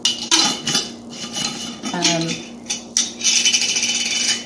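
A quart glass jar of water kefir being sealed with its lid: a run of sharp clinks and scraping clatter, close and fairly loud, with no talking.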